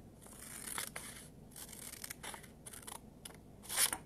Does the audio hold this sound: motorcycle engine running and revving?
no